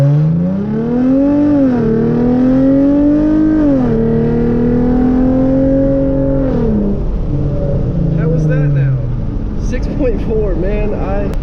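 Hyundai Genesis Coupe 3.8 launching hard for a 0 to 60 run, engine revving up through rising pitch sweeps with a shift or two, loud and close from inside the car.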